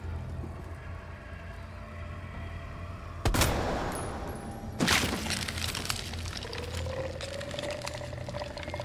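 Two sharp gunshot blasts in Resident Evil 2, roughly a second and a half apart, ring out over a low, steady game ambience, followed by a rising tonal whine.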